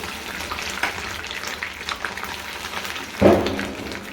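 A cup of milk hits hot caramelized sugar in a pan while making makhandi halwa, giving a steady crackling sizzle with a sudden louder splash and hiss near the end.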